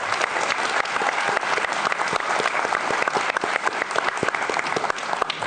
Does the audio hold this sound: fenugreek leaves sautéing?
no